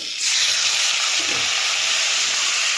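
Tomato frying in a pan as a little water is added, a loud sudden sizzle bursting up after a brief moment and holding a steady intense hiss throughout, with no talking.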